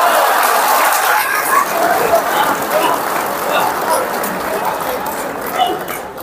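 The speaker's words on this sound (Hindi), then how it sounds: "और तालियां उठेंगी" Dense, steady clapping from a large audience at an Urdu mushaira during the Mysuru Dasara festival, loud and close, holding for several seconds with slight swells and some voices mixed in.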